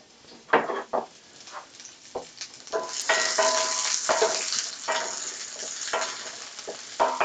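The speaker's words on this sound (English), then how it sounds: "I'm glad they got a good hard sizzle as soon as they hit the pan" Onions brown in a hot pan for birria lumpia with a steady, close sizzle, broken by scraping stir strokes and occasional louder spatter bursts.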